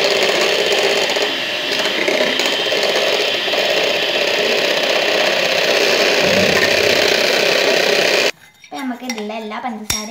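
An electric hand mixer beats sugar into red velvet cake batter made without cocoa powder, a loud steady whirring rattle that runs for about eight seconds before cutting off, followed by a brief voice.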